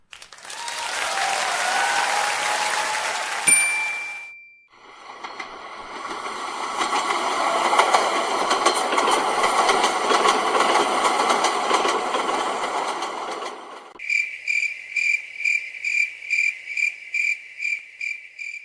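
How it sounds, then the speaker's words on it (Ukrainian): A long rumbling run of a train rolling past, following a separate hissing noise and ending before a rhythmic chirping pattern. "Так звучить потяг."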